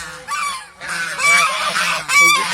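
Ducks on a commercial duck farm quack and honk loudly in repeated overlapping calls, several birds close by, with no talking.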